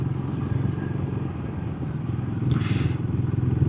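Royal Enfield Guerrilla 450 motorcycle riding, its 450 engine droning with a steady low throb and some clatter, a short hiss of wind or passing traffic partway through.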